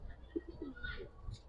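Giribaz pigeons at a market in Old Dhaka coo in a few soft, low, rounded calls, close by and fairly quiet over a faint background hum.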